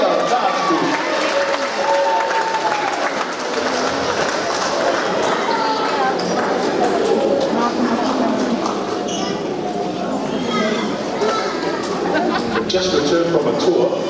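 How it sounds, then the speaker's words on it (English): A crowd at a church stake conference applauds a dance team with continuous loud clapping and cheering, mixed with voices and busy background noise. "Big round of applause for the Siva Maia dance team."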